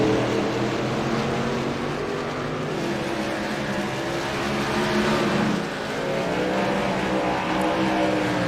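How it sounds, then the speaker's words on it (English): Several race cars in a North Wilkesboro oval racing video game roar down the start-finish straight with wheel spin, a dense, loud, continuous engine drone with overlapping pitch lines that swell and dip slightly. "Lots of wheel spin for Barrington as they come through to the start-finish straight."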